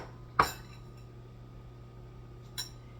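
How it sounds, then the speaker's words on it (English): A spoon stirs a pot of macaroni, producing two brief metallic clinks about two seconds apart over a quiet background hum. "Give it a stir."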